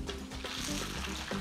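Salt codfish fritters frying in oil in a pan, a continuous soft sizzle with light bubbling crackle, steady and fairly quiet, with no talking.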